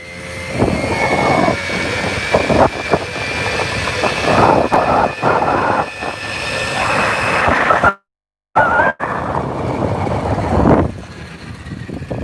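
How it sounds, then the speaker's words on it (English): A Moto moped engine on a test ride roars steadily as it accelerates, with a brief dropout partway through and a gear shift easing the drone, loud and close with wind noise. "maybe this bike is shifting a little earlier than I remember"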